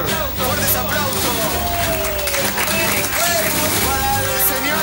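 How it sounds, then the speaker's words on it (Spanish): A studio audience breaks into sustained, dense applause and crowd noise as a guest enters a TV talk show, steady and loud throughout, with voices mixed into the clapping. "Fuertes aplausos."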